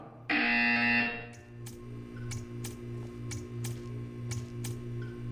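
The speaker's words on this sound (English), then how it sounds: "You will hear a buzzer. When you hear the buzzer, stare at the art." A loud electronic buzzer from the Portal 2 video game blares steadily for about a second, then gives way to a quieter ticking, mechanical rhythm with faint clicks over a low hum.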